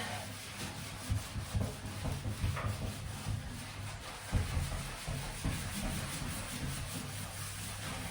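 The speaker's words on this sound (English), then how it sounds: "So just give it a good rub down." A sponge scrubs over a white bathroom surface with steady, close rubbing strokes, the scraping texture repeating in uneven bursts throughout with no talking.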